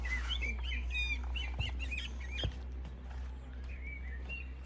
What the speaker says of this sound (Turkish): Şuradan bir kuş sesi geldi.